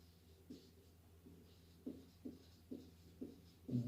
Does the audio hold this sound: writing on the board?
yes